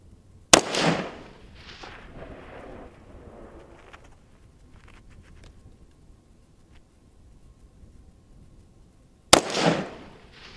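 A long-range rifle shot fired at a distant metal target outdoors: two sharp, loud cracks about nine seconds apart, the first followed by a rolling echo that fades into quiet ambient noise.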